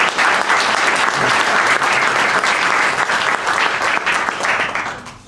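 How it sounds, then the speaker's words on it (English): Loud, dense applause from the audience at a Gaza solidarity meeting in Tyrone, sustained for several seconds before tapering off at the end, with no talk over it. "We could give you a round of applause."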